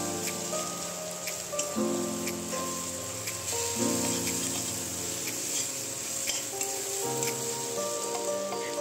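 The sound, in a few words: onions frying until brown for biryani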